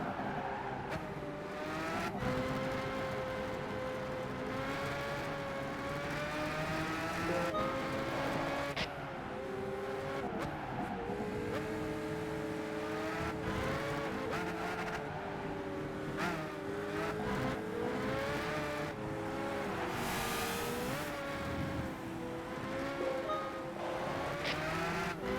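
A Pagani Zonda race car in Gran Turismo 5 with its engine howling steadily throughout, the pitch rising and falling through shifts and revs, loud and continuous, with faint tire noise.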